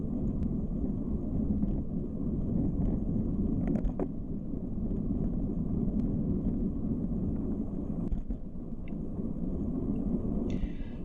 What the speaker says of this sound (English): And the wind is right in our faces.